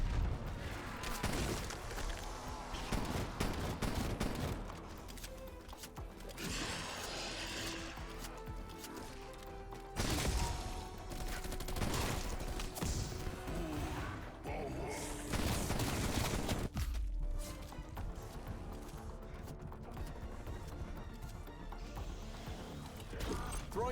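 Video game firefight with bursts of gunfire and frag grenade blasts, dense overlapping shots and booming explosions at several moments, continuous and busy throughout, with players talking over the action.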